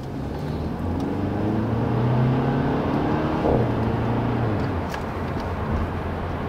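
A Mercedes-AMG C200 engine revs steadily in Sport Plus mode, its pitch rising and falling through the gears, loud and close with a continuous motor drone and no talking.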